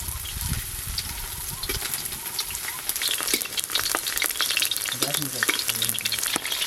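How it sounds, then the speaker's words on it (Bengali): Chicken pieces fry in a little hot oil over a clay stove, crackling and spitting loudly at close range, with stirring and scraping sounds scattered through the steady sizzle. "এবার একটা একটা করে চিকেনের পিসগুলো দিয়ে দেব। এগুলো কিন্তু একটু কম তেলেই ভাজতে হবে।"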